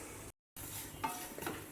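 Coconut roasting with black pepper and fennel seeds in a pan, stirred with a soft scraping and light sizzle, close and steady, broken by a brief gap of silence, with a couple of faint utensil clicks.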